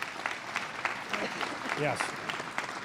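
Audience applause at a live butter sculpture unveiling at the Pennsylvania Farm Show, a steady wash of clapping running through the moment with a voice speaking briefly over it.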